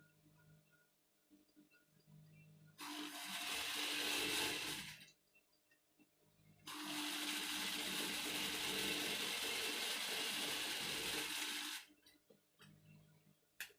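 A sewing machine runs through a dress's side seam in two sustained whirring bursts, the first about two seconds long and the second about five, with quiet pauses around them.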